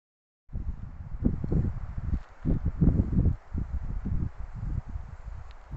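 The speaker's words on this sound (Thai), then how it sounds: "เสียงลมตึงอย่างกับเสียงฝนตกเลยครับ" Strong gusty wind at Phu Kradueng buffets the microphone in loud, uneven rushes, with a hissing wash that resembles steady rain.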